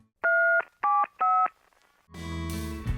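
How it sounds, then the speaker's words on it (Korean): Three short telephone keypad tones, each a steady dual-pitch beep separated by brief gaps, followed by a buzzy, sustained line tone. "나는 다음 날 아무것도 모른 척 예지에게 전화를 걸었습니다."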